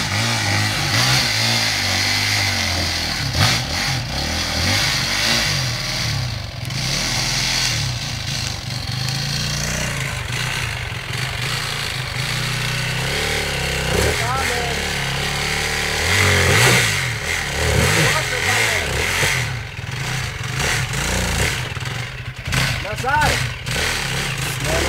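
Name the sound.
enduro motorcycle engine revving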